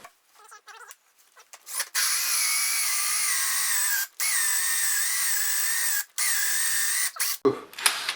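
A power drill whines steadily in several long bursts while drilling through a mobile home ceiling, stopping briefly between runs, close and loud, with short rattles at the start and end.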